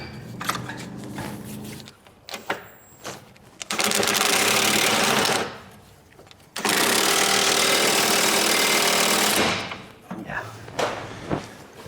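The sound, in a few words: ratchet loosening a stuck engine motor mount bolt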